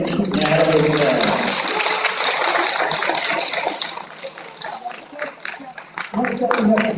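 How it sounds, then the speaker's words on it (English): A round of applause at a school awards assembly, broad continuous clapping that thins and tapers off toward the end as a voice begins speaking. "Another round of applause for Mrs. Natalie Bell."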